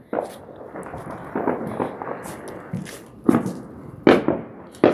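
Fourth of July fireworks burst in a rapid, uneven series, with several louder booms standing out near the end against a steady crackling wash.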